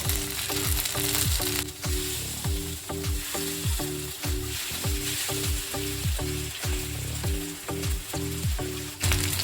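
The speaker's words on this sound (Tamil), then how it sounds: "இப்போ தோசைக்கல் வச்சுட்டு நம்ம ஊற போட்டிருந்த ஃபிஷ்ஷை வந்துட்டு ஃப்ரை பண்ண போகிறோம்" Marinated fish pieces fry on a dosa griddle. A loud, continuous sizzle runs throughout, with a steady, rhythmic low humming pulse beneath it.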